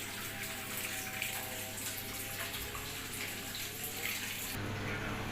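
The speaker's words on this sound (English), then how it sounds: "This is the second spin while it drains water." A fully automatic washing machine spins its drum while draining water, giving a steady, moderately loud mix of motor hum and running, gushing water that continues evenly throughout.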